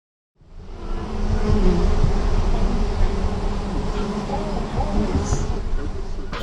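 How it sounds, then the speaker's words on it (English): A dense honeybee swarm buzzes loudly and continuously close by, a thick droning hum that holds steady from start to finish. "wasn't that a wonderful, in fact almost terrifying noise you hear from the bees in a swarm?"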